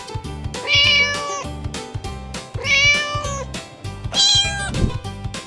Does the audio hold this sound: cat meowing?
yes